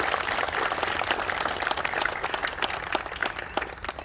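An audience at an Azad Hind Divas ceremony applauds, a dense burst of clapping that gradually thins and grows more scattered toward the end.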